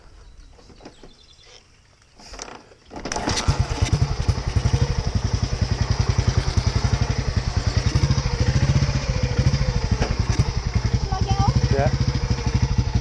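A 1940s motorcycle engine starts after a few quiet seconds and settles into a loud, rapid, uneven thumping close by, with a short spoken word early on.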